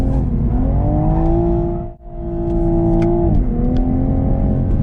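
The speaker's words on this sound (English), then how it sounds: "One last skid." A Toyota Supra on a race track gives a loud, close engine drone with rising and falling pitch as it is pushed through a slide. The sound dips sharply for an instant midway, then the engine surges back, with no voices.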